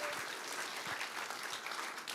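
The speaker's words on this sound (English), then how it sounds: "How about a round of applause for our city council member, Lee Graydon." Audience at a library-hosted book event applauding a city council member, a steady, fairly quiet wash of clapping heard from a distance with no talk over it.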